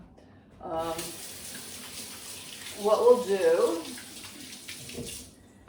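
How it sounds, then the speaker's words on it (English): Tap water runs into a sink as hands are washed in a home kitchen while oatmeal scones are being made, a steady wash of flow swelling louder midway, with someone talking over it. "I'm gonna wash my hands after that"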